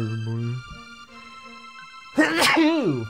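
A single loud sneeze bursts out near the end, following a stretch of quieter voiced sound, with a sharp onset and a tonal, sweeping tail.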